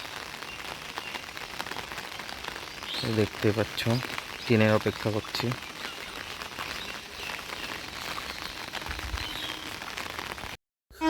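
Steady rain patters down at Panchberia railway station on a local line, a constant hiss through the whole stretch, while a person talks over it with a short burst of nearby voices in the middle.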